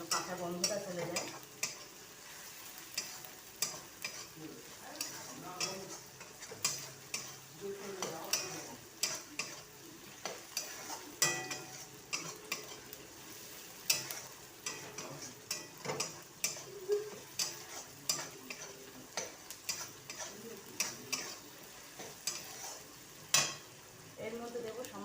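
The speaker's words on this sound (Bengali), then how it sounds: "টমেটো কুচিটাও ভালো করে ভেজে নেব যেন কাঁচা গন্ধটা চলে যায়।" Chopped tomatoes fry in a pan with a continuous sizzle, broken by repeated sharp taps and scrapes of a spatula stirring against the pan, close and moderately loud throughout.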